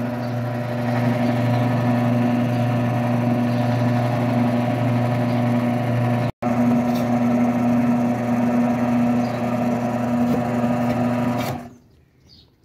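A bread machine kneads homemade bread dough with a steady, loud motor hum and whir that runs continuously, breaks off for an instant midway, then resumes before stopping near the end.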